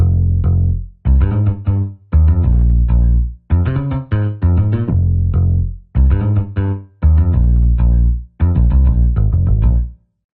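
A synth bass layer distorted with the trash harmonic setting of Guitar Rig 7 Color plays loud, gritty notes in short repeated phrases separated by brief gaps, alone with no talking.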